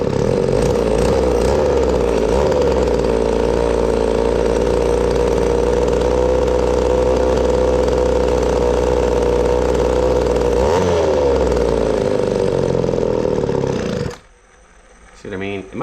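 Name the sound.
Echo 280e chainsaw engine running, not idling well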